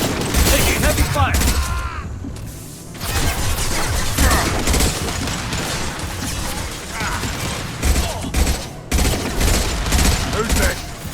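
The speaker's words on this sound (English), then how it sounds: "Taking heavy fire!" Rapid gunfire bursts and mechanical weapon clatter from a sci-fi shooter game fill the scene loudly and almost continuously, with brief gaps and voiced combat chatter mixed in.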